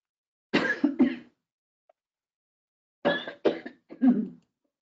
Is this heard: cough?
yes